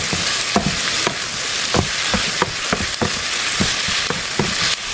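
Onion and garlic sizzling and frying in a pan while being stirred, a steady hot crackle with repeated scraping strokes of the utensil in a quick rhythm, close and with no talking.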